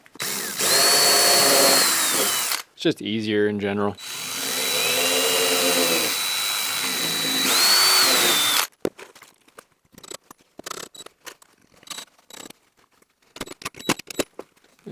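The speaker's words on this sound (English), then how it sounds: "I did start pre-drilling." A power drill whines in two long bursts as it pre-drills screw holes, followed by scattered clicks and handling noises and a brief spoken remark.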